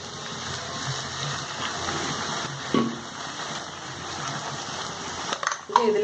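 Water is poured into a grinder jar to rinse it and tipped into a pan of frying onion-tomato masala, a gushing pour over steady sizzling, with clinks of the jar near the end.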